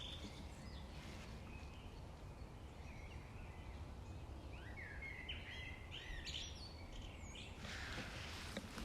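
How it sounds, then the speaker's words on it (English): Several birds chirp and trill in spring over a steady outdoor hiss, their calls scattered and moderately distant, with no one speaking. "because now you hear the birds"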